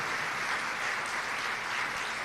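A church congregation applauds loudly and steadily, a dense continuous wash of many hands clapping together with no gaps and no talk.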